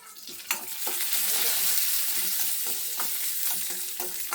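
Cumin, coriander powder, green chillies and cashews sizzle steadily in hot oil, a dense continuous hiss with sharp scrapes of a spoon stirring the pan at intervals, close and fairly loud throughout.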